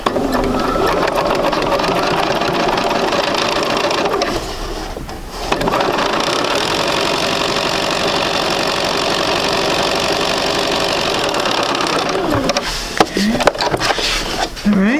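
A sewing machine stitches quilt fabric at a quarter-inch seam in one steady, close, whirring run, pausing briefly partway through and then continuing, with a few soft knocks near the end.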